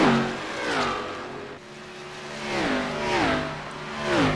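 Race car engines in a racing video game at Texas, several revving passes rising and falling in pitch, moderately loud and continuous, with no speech.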